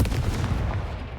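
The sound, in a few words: Confringo blasting curse spell cast in a Harry Potter video game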